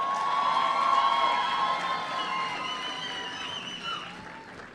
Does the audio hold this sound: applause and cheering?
yes